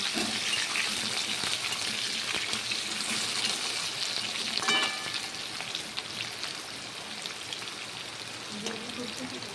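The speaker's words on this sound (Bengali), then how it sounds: "এবার আমরা আলুগুলোকে একটু ভালো করে নেড়ে ফেলে নেব" Potatoes frying in a pan as they are stirred, giving a steady, dense sizzling hiss throughout with a brief louder rustle midway, fairly close.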